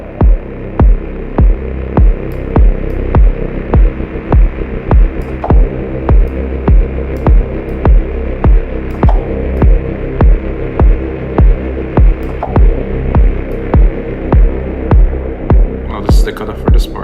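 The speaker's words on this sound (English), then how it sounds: "This kind of static wind kind of thing." A deep techno track plays a steady thumping kick under a hissing, wind-like static synth texture, with a low humming drone throughout and a brief burst of brighter noise near the end.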